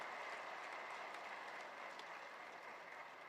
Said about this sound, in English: we need a big round of applause for the two speakers